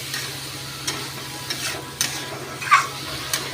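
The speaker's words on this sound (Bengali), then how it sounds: "আমি কষিয়ে একটু লাড়াচাড়া করে একটু ঢেকে দিলাম" Curry is stirred while it sautés in a pan, with a few soft spatula scrapes spaced out over a low, steady sizzle, close by and with no voices.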